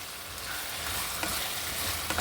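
Marinated chicken is stirred and fried in a pan for chicken gravy, giving a loud, dense, continuous sizzle with a few scraping spoon strokes, close up and without speech.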